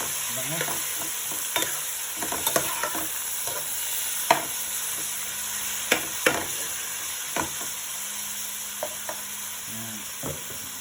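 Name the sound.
meat frying and being stirred for dinuguan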